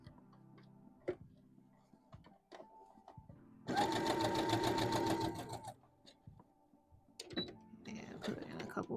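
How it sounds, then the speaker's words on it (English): A domestic sewing machine back stitching on fabric while a dress is sewn, a loud mechanical whirring burst in the middle between quieter ticks and clicks, close by. "put in a couple back stitches there"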